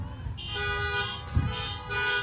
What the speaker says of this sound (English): Let me hear the honk.